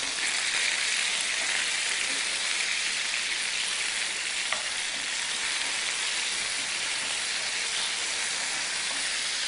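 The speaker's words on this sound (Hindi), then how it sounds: "चिकन डालने के बाद हम इसको अच्छे से भून लेंगे" Chicken pieces fry in a hot pan with oil, giving a steady, loud, close sizzle that runs without a break, with a faint stirring scrape partway through and no talking.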